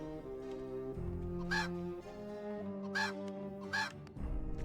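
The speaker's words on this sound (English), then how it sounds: "Is that a chicken?" A chicken in the 1999 video game Ultima 9 gives three short, close clucks spaced about a second apart, over a steady droning game soundtrack.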